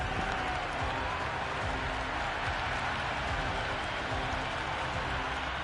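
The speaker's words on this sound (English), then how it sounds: "Will you listen to that crowd?" Cricket crowd at a T20 match cheering and applauding: a dense, continuous roar of applause and crowd noise at steady loudness with no pauses, heard at a distance with no clear single voice.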